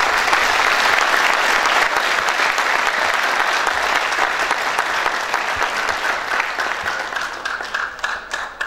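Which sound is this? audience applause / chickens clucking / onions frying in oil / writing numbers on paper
audience applause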